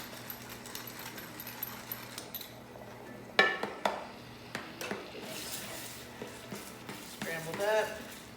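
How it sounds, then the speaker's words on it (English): A utensil scrapes and taps against a pan as eggs are scrambled, with soft stirring, a few sharper metal clinks and a low steady hum in the background. "I'm gonna scramble up these eggs"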